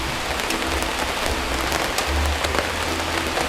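Steady rain falls during an outdoor camper van review, a dense even hiss of drops striking surfaces with low rumbling underneath, continuous and fairly loud throughout, with no talking.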